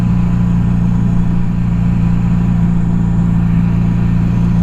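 A 1982 Suzuki GS750T motorcycle engine drones steadily while being ridden, a loud, even, low-pitched hum with no noticeable revving over a few seconds.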